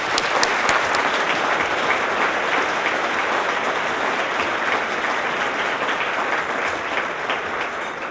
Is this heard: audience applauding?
yes